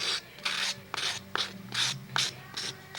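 Rhythmic rasping strokes of a sanding block dressing the edge of a foam sanding block, about six back-and-forth passes, close and steady.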